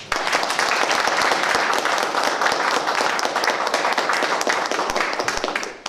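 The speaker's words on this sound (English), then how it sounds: "can we have a big round of applause for everybody who's come tonight?" Audience applause at a public speaking evening, a dense, steady roar of many hands clapping that holds loud and close for several seconds before cutting off at the end.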